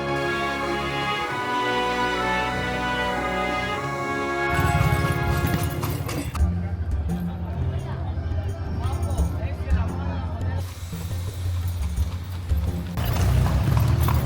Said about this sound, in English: on a horse and carriage